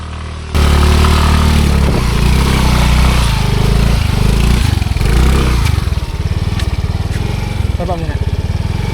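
A small motorcycle engine starts up and runs loud and close, its rough buzzing note revving and dropping with rattling pulses, and a voice speaks briefly near the end.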